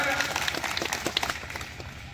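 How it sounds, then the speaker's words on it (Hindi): A crowd at a farmers' protest rally in Bihar claps briefly and loudly, a dense burst of applause with voices mixed in over a couple of seconds. "तो उस पर जोरदार ताली लगे।"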